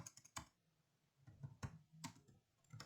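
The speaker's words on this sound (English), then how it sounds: "I better slow down my typing here." Typing on a computer keyboard while writing code, a quiet, close string of irregular clicks and taps, some keystrokes sharper than others, with no talk over it.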